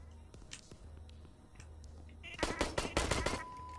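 Gunfire in the video game HOLE: a low, murky ambience gives way to a loud, rapid burst of shots that hammers on for over a second near the end.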